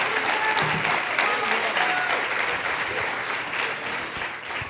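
A church congregation claps together in a sustained, dense round of applause that fades slightly toward the end, with a voice faintly audible over the clapping.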